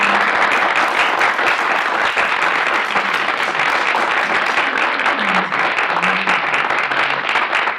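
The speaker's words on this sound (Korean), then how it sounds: "잘 알고 있는 친구에게 큰 박수 쳐주세요" Big round of applause from an audience at a Korean filial-piety instructor selection event, loud, thick and continuous clapping from many people with no pause.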